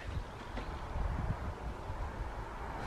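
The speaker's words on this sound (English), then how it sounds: "It's quite breezy today" Steady breezy wind buffeting outdoors near an old Cornish tin mill, a low rumbling gusty roar that swells and eases without pause, close and fairly loud.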